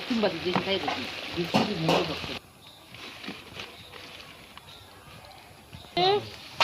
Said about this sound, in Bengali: এবার বসালো মা পেঁয়াজকালি ভাজা